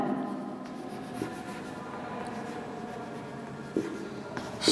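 Handwriting on a board makes a steady scratching and sliding of the marker across the surface, with occasional small taps as strokes start. It sounds close and continuous, with no talking.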